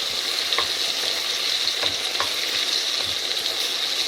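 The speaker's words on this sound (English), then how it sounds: "So make sure you mix everything in properly so everything's covered." A spoon stirs chopped capsicums through blended tinned tomato sauce in a hot pan, giving a steady close sizzle with soft repeated scraping strokes and no talking.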